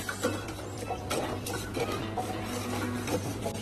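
A spoon stirs kokum syrup in a pot on a gas stove, with soft scraping and faint metallic clinks over a low steady burner hum, quiet and close.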